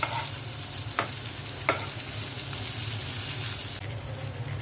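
Pointed gourd pieces fry in a pan as they are turned, a steady close sizzle broken by a couple of sharp scraping clicks, over a low continuous hum.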